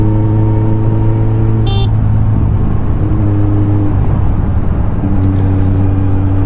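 A Kawasaki Ninja 1000 with a Two Brothers aftermarket exhaust rumbles in traffic, a loud steady low drone with pitch shifts as it changes speed and a short horn toot partway through.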